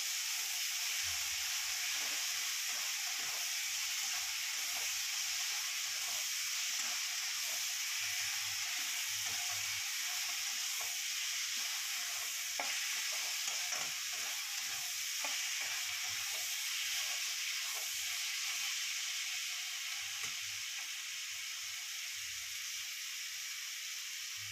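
Chow mein ingredients and sauce being stirred and fried in a pan, a steady loud sizzle and hiss with intermittent scraping and knocking of the stirring utensil throughout.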